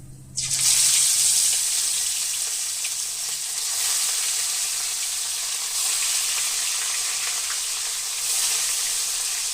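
Rui fish pieces sizzling steadily in hot oil with cumin seeds, a loud continuous frying hiss that starts abruptly as they hit the pan and holds, with no talking.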